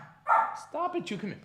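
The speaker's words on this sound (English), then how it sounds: "On cue, dog barking." A dog barks sharply twice at close range, with a yip, while a person speaks to it over the barking.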